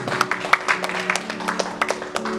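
Scattered handclaps from a church congregation at a healing ministry service, irregular and moderately close, over a steady low sustained tone.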